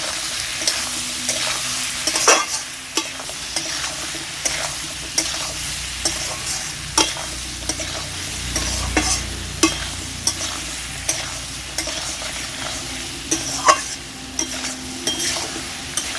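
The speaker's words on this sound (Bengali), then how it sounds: "সবজিগুলো নেড়ে চেড়ে নিচ্ছি।" Mixed vegetables with salt and turmeric are stir-fried in a pan, with a continuous sizzle under repeated sharp scrapes and clinks of a spatula against the metal, fairly loud and close.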